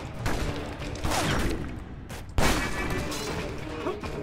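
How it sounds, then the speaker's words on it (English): Heavy shotgun blasts and chaotic gunfire in the action video game Stranglehold, loud and dense with a strong boom near the middle and continuous reverberant shooting throughout. "That's how you shotgun."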